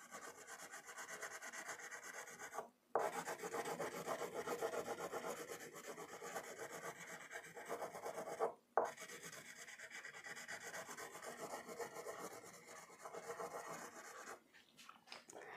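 Crayon colouring on paper, continuous close scratchy rubbing strokes that run in long stretches, broken by two brief pauses as the crayon lifts.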